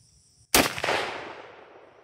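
A single sharp deer rifle shot fired at a 100-yard range while zeroing a scope, a loud near crack with a decaying tail that rings out for over a second.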